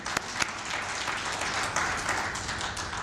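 Audience applause at a South African Qualifications Authority event, a thick, steady wash of many hands clapping at once, fairly close and loud throughout.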